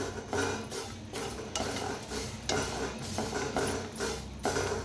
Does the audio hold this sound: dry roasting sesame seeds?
yes